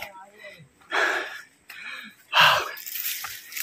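Heavy, breathy gasps come in uneven bursts, loud and close, with quieter breathing between them.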